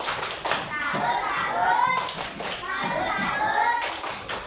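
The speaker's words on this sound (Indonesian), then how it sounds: "Tepuk salut." Children in a classroom chant and clap a rhythmic tepuk salut cheer together, their voices loud and overlapping over patterned hand claps.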